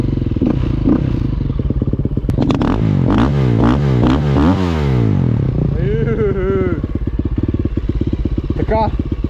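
A 2012 KTM 250 EXC dirt bike engine revs hard and clatters nearby, pitch climbing and dropping between throttle bursts, with a voice talking over it.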